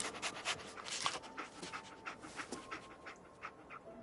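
Dogmeat, the dog companion in Fallout 4, pants quickly and steadily close by, breathy rhythmic puffs over faint game ambience.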